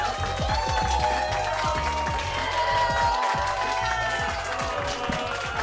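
An audience at a comedy club claps for a comedian, a steady patter of applause partly buried under loud, bass-heavy music that runs throughout.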